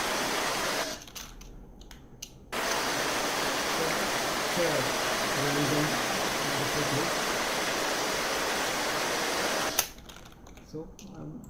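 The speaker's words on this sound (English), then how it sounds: "so I thought of adding one waterfall sound" A downloaded waterfall sound effect layered into an edited nature reel: steady broadband rushing water, continuous and fairly loud through the middle, with a speaking voice faintly at the start and end.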